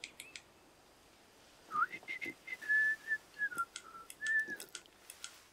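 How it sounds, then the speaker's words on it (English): A player character whistles a short, wavering melody in the VR game Torn, inside a spooky mansion, with clear close whistled notes rising and falling over a quiet, faintly noisy background. "I'm guessing that's us whistling"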